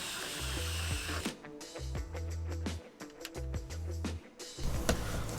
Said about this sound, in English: the first job is to drill these holes out a bit bigger